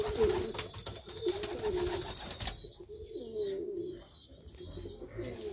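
A pigeon, apparently a dilute or brown bird, coos in soft, low repeated phrases at close range, with some sharper chirps and rustling early on and no talking.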